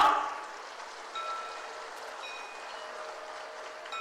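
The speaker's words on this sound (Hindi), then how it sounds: "जोरदार तालियां।" Applause from a public gathering welcoming a chief minister in Lohardaga, a broad steady patter of many hands filling the hall, moderately loud and continuing for several seconds.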